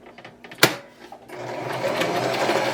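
A sewing machine stitches fabric for a puffy Christmas wreath, starting after a sharp knock and then settling into a steady, close mechanical whir that holds to the end.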